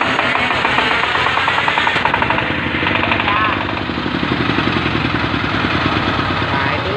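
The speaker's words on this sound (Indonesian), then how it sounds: "tutorial cara penyalaan mesin ongkel" Hand-crank started stationary single-cylinder diesel dompeng engine, KD600B, driving a flour grinder in Lampung, chugging in a fast steady rhythmic knock close to the recorder, running continuously with a brief dip in level midway.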